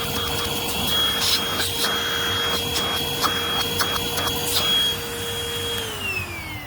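An Oraimo H3 handheld cordless vacuum cleaner runs steadily and close by with a high-pitched motor whine, running on a partly charged battery. Near the end the whine drops in pitch as the motor winds down.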